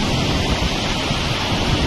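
Floodwater surging out of a dam in Muzaffarabad, Pakistan, the river suddenly risen by 30 to 40 feet, roars as a steady, loud, broadband rush with no break and no voices.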